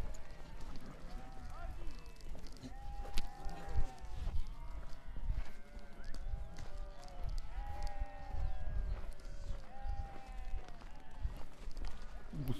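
A flock of about 1,200 sheep bleating nonstop, many overlapping calls near and far, with trampling hooves and people talking among them.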